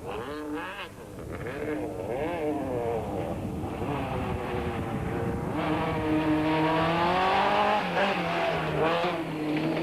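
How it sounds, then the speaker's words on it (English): Class B Golf 16-valve GTI rally car racing on a mountain trail stage in 1993, its engine revving loud and close with rising and falling pitch as it accelerates through gears, sustained throughout. "Leading the 2-wheel drive cars are Leon Buerter and Francois Jordan in their Class B Golf 16-valve GTI."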